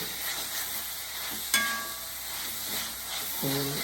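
Sliced onions and garlic frying in a pan for a Kerala-style chicken curry, a steady close sizzle with occasional soft clinks of stirring.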